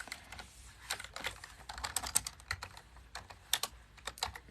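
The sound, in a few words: typing on a computer keyboard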